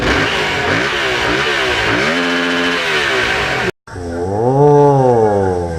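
A Yamaha MT-07 motorcycle revs loudly and up close, its engine note rising and falling in repeated blips with crackling exhaust pops, a brief cut, then another sweeping rev.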